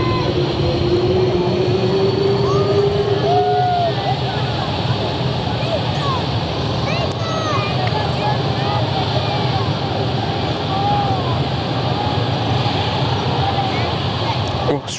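A Skippers Fokker 100 jet arrives at Perth Airport, heard as a loud, continuous, distant engine roar and wind rush that holds steady and does not fade.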